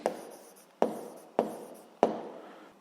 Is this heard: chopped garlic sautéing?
no